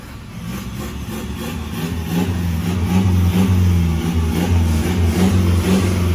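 A Toyota Hilux Revo Rocco pickup with an electric valve bypass exhaust idles, then revs up and holds a loud, throaty exhaust drone heard from close behind.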